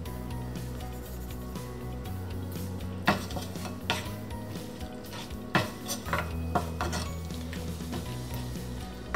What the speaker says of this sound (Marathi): छान हलवून घ्यायचंय सगळं